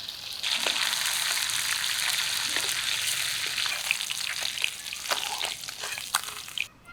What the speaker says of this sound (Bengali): এখন শুধু বসে বসে মাছগুলো ভাজছি